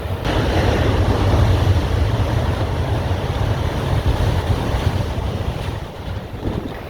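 Ocean surf washes steadily onto a beach beside a seaside tarp shelter, a loud continuous roar of breaking waves with wind buffeting the microphone and no voices.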